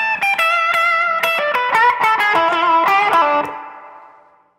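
An electric guitar plays an aggressive blues lick, a fast run of sharply picked, bent notes with a clean, bright tone. The last note rings out and fades alone.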